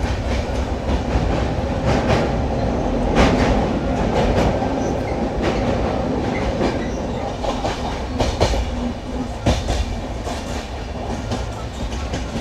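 Padatik Express 12378 coasting down a gradient toward Dum Dum, with dense steady rumble and repeated sharp clacks of wheels over rail joints heard from inside the coach, loud and continuous.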